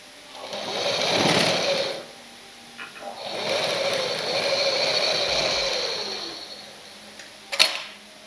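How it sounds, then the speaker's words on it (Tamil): A sewing machine stitches blouse lining fabric in two runs, a steady whirring burst of about a second and then a longer run of several seconds, close and fairly loud, ending with a sharp click. "ஸ்லீவுக்கு 2 தையல் போட்டுக்கலாம்."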